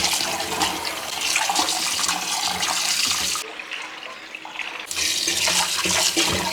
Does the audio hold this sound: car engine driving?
no